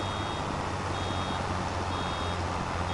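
In Farming Simulator 25, a farm vehicle backing up gives off steady repeating reverse-warning beeps over a constant engine hum, loud and continuous through the clip with no talking.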